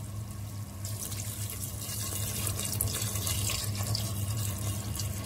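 Liquid, a medium sherry, pours steadily into a pot of goulash to cover it, a continuous splashing, gurgling stream heard up close with no talking.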